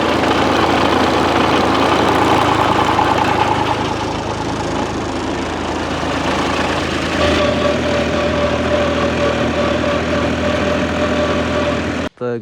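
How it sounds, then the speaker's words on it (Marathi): A well water pump motor runs on a farm with a steady, loud mechanical hum and a slight shift in tone partway through, continuing without pause. "अरे चालूच मोटर"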